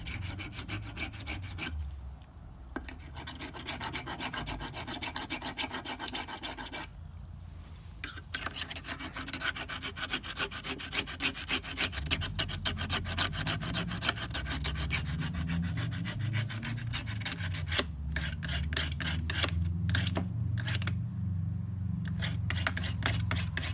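A stainless steel cheese spreading knife blade ground on a sharpener, a steady close rasping scrape that runs on with brief pauses, growing slightly louder toward the end.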